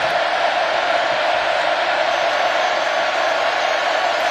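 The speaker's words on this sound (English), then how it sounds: "Remaining crowd still into it here." Football stadium crowd at Kyle Field during a Texas A&M game, a steady, dense roar of cheering and shouting that holds at an even level throughout, with no single voice standing out.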